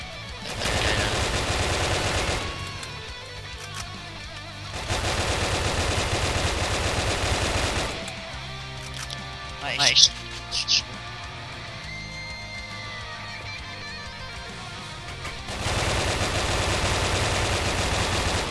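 Automatic gunfire rattles in the blocky shooter Brick Force in loud sustained bursts, three long stretches of rapid fire separated by quieter gaps. A brief sharp squeal comes in the middle, and there is no clear talking.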